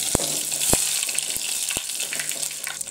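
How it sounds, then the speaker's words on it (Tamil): Fennel seeds and curry leaves hitting hot oil in a pan give a close, hissing sizzle with a few sharp crackling pops scattered through it. "எண்ணெய் சூடாகிட்டு சோம்பு போட்டுக்கலாம். கருவேப்பிலை போட்டுக்கலாம்."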